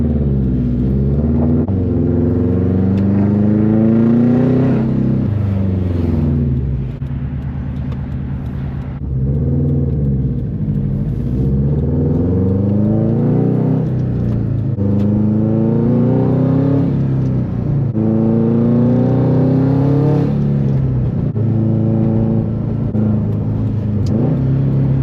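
A Subaru WRX STI drives along with a loud, close engine rumble that rises and falls through several gear changes and accelerations, with no talk over it.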